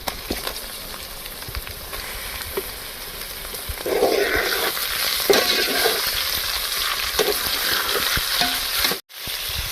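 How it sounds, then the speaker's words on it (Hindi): Chicken fries with onions in a pan for a bitter gourd chicken curry, giving a continuous close sizzle that swells partway through, with occasional stirring scrapes and no talking. "तो चिकन को भी हम फ्राई कर लेंगे, गोल्डन कर लेंगे।"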